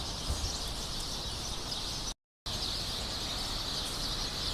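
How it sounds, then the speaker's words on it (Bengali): Small birds and sparrows chirp in a tree beside a mosque, a dense, steady high twittering that runs throughout, broken once by a brief gap of silence. "কিচিরমিচির শব্দ শুনতে অনেক ভালো লাগে"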